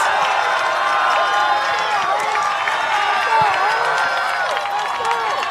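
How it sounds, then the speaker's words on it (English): Crowd cheering and shouting throughout at a Class 4A high school soccer quarterfinal between Dowling Catholic and Ankeny, a steady, dense roar of many voices with scattered whoops and claps, loud and continuous. "Crowd having a good time getting into this one here in the Class 4A quarterfinals."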